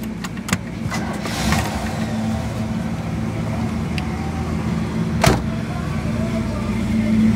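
A 1966 Pontiac GTO convertible with Tri-Power carburetion cranks and settles into a steady, low idle close by, with a couple of sharp clicks and a brief louder burst partway through.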